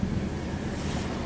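Surf splashes against a sailboat as it turns and dips into the water off South Padre Island, a steady rushing wash mixed with wind buffeting the microphone throughout.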